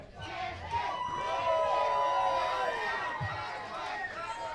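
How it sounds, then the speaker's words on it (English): A wrestling crowd at a live event shouts and jeers at a team outside the ring, a loud, sustained wash of voices and yelling with a commentator talking over it. "Some people in the crowd calling the team on the outside chicken."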